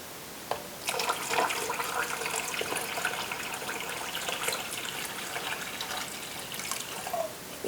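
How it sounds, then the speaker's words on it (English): Hot water pours steadily into a metal pressure canner, a continuous splashing stream with a few trickles and drips, no voices. "so I need to add more water"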